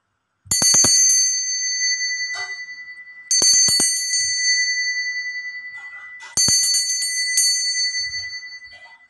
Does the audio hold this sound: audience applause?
no